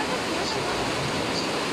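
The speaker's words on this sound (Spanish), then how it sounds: "miren la fuerza que lleva el agua, de verdad es impresionante" Rushing floodwater surges down a street in Ecatepec, State of Mexico, as a loud, continuous broadband roar with no breaks, close and powerful throughout.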